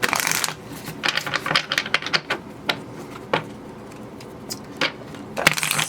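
Tarot cards being shuffled in quick, irregular bursts of crisp riffling and slapping, close to the microphone, with short pauses between runs and no voice.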